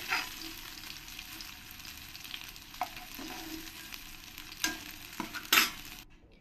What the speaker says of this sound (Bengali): পরের মাছগুলো আমি সব ফ্রাই করে নিয়েছি।